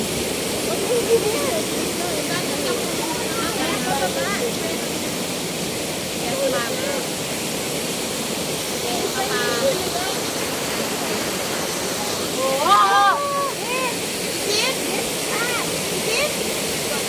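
Ditumabo Mother Falls in Baler, Aurora roars steadily in a broad, constant wash. Voices call out briefly over it, with a louder shout near the end.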